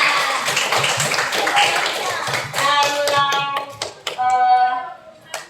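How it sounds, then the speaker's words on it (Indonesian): Indonesian schoolchildren burst into brisk, close classroom applause for a classmate, then the clapping thins into scattered claps as children's voices start talking over it. "tepuk tangan dulu untuk siapa ini?"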